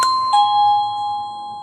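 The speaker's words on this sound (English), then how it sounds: "as I can see in the specs of this Bluetooth doorbell, or wireless doorbell rather, it has 3 different kinds of music" An affordable wireless Bluetooth doorbell rings a clear electronic chime, two bright tones struck in quick succession with a lingering ring, close and loud in a quiet room.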